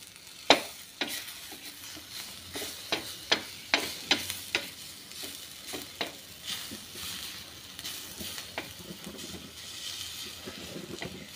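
Green chillies and lemons sizzle in a hot pan while a spatula stirs and presses them, giving a run of sharp scraping clacks over a soft, steady frying hiss, close and fairly quiet.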